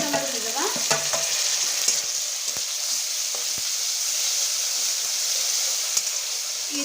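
Egg keema masala with tomatoes fries in a pan with a loud, steady sizzle, interrupted by occasional scraping clicks from stirring.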